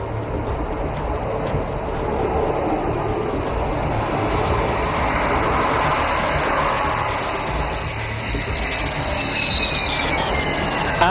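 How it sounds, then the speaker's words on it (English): A Rafale fighter jet touches down on a highway landing strip at Dibrugarh, a loud, steady roar of jet engines with a high whine sweeping across it throughout. "And touchdown. This is where Rafale excels."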